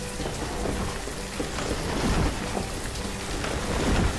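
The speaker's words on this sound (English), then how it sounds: "Sure does rain a lot." Steady heavy rain pouring continuously in the video game Banished, with low rumbles like distant thunder underneath, no voices.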